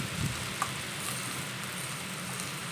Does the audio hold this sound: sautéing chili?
yes